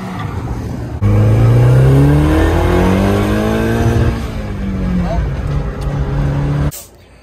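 An SR20DET-powered Nissan D21 truck engine pulls hard under boost, its pitch climbing steadily through the gears for several seconds before cutting off abruptly, loud and close.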